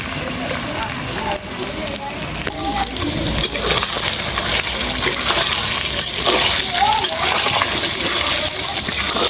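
Salted potato pieces fry loudly in a pan, a constant close sizzle and crackle with a voice talking over it.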